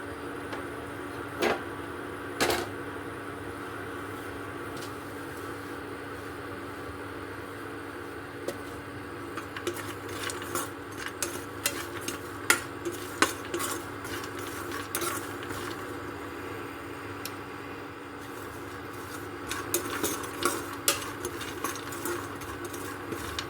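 A spoon scrapes and clinks against a pan while chana dal dry-roasts, with soft intermittent scraping and scattered ticks over a faint steady background hum and no talk.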